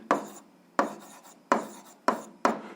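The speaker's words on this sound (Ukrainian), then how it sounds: "Ну що ж, записуємо відповідь, пишемо відповідь." Five short scratchy strokes of a pen writing an answer to an algebra exercise, each a quick rasping burst followed by a fade, spaced roughly evenly and close by, with no talking.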